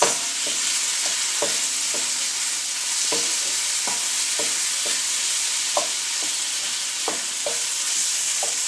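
Diced tomato chunks being mixed in a pan over medium-high heat, with steady scraping and stirring strokes in an irregular rhythm over a continuous soft sizzle, close by and with no talking.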